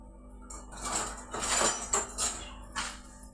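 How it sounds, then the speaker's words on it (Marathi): Sesame seeds dry-roasting in a hot pan for a vegetable dish, with several bursts of clinking and scraping as a utensil stirs them against the metal, close and moderately loud, no talking. "आता त्याच्यामध्ये तीळ आपण ही भुजून घेऊ"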